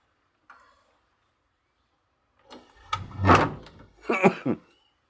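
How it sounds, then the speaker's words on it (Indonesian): The front door of a house is pulled shut, giving a cluster of clunks, rattles and a latch click. It sounds close and fairly loud after a faint tap and several seconds of near silence. "ini saya menutup pintu rumah saya dulu ya."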